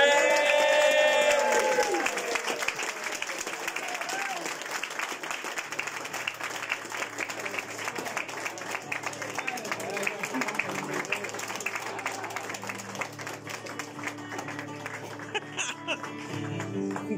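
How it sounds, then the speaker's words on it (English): Wedding guests at the altar applaud the newlyweds, a loud burst of clapping that settles into steady applause mixed with crowd noise and voices for the rest of the stretch. "huge round of applause for the new Mr."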